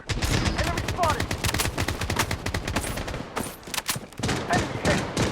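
Dense, hectic gunfire fills a match of the shooter game Blood Strike. Rapid automatic bursts and overlapping shots crackle loudly almost without pause, with brief lulls near the end.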